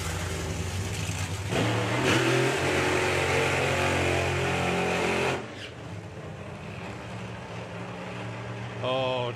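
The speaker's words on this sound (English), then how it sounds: "Don't you just love fuel cars doing burnouts?" Nitro-fuelled drag racing cars do burnouts at a drag racing festival, a loud, sustained engine roar that drops away after about five seconds, leaving a quieter rumble with a voice talking near the end.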